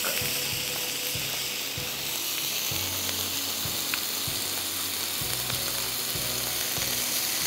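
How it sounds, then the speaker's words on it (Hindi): Chicken frying in a pan, a steady loud sizzle with regular scraping strokes of a spatula stirring the pieces, close up and without speech. "चिकन डाल के हम पाँच सात मिनट कुक करेंगे"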